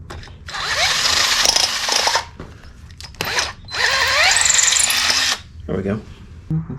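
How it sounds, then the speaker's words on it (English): A power drill whines in two long bursts, boring holes into a Honda CX500 motorcycle's metal frame, with short pauses and brief knocks between them. "marked some holes, or some marks on the frame where I'm going to drill"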